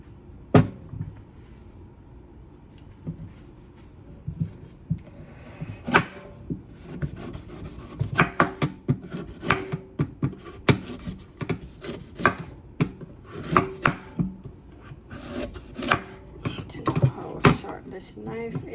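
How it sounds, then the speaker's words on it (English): A knife cutting up a carrot on a board in a home kitchen, a run of sharp irregular chops and scraping strokes, close and fairly loud, with some talking mixed in. "Gonna come back over and cut up my carrot."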